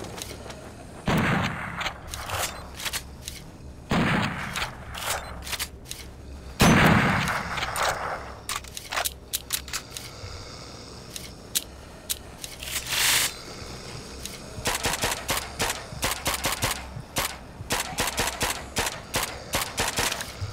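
Bolt-action rifle fire in the game Zed Zone: single loud shots spaced by pauses for bolt cycling and reloading, then a quicker run of sharp cracks and clicks near the end.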